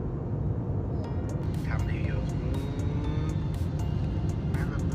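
An Airbus A321neo airliner descends toward Suvarnabhumi Airport, heard from inside the cabin near the wing: a loud, steady, low engine and airflow roar that never lets up, with faint voices briefly above it.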